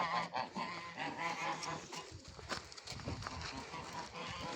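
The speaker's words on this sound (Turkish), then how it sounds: "Bak nasıl kızıyor kaza bak." An angry goose honks on a farm, harsh agitated calls that come in quick bursts at low volume against busy background noise.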